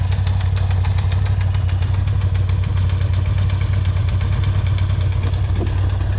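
A 2020 Can-Am Outlander 650 XMR ATV engine idles loudly and steadily up close, with a rough, rapid chugging rhythm throughout.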